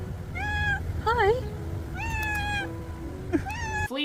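A cat meows up close, with several rising and falling cries spread over a few seconds. A person's voice speaks briefly between them over a steady low room hum.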